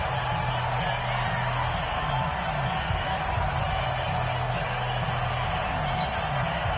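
A video game stadium crowd at an American football game on PS4 roars steadily through a big third-down moment, a dense continuous wash of cheering with no break.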